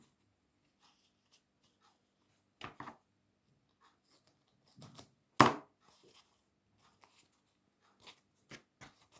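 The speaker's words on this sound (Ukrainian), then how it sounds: "цього ліст кукурудзи розрізую навпіл" A dry corn husk leaf is cut in half, giving a few sparse, soft crackling snips and one sharper crisp cut, close up amid near silence.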